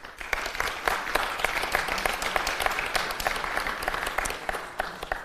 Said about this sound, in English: And please a warm applause.